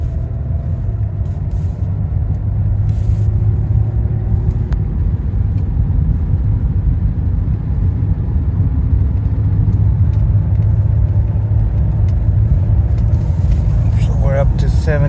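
A 2017 Audi Q7 with a newly replaced and programmed transmission cruises at highway speed. A loud, steady engine and road drone fills the cabin throughout, with no distinct gear-shift change standing out.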